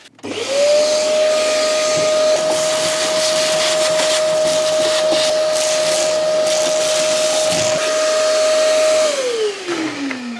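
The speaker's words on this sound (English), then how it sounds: "And then I need to get the shop vac to get all this loose stuff out." A shop vac vacuums loose rust debris out of a Saab 900 Turbo Commander, its motor whining up to a loud steady drone for about eight seconds, then winding down as it is switched off.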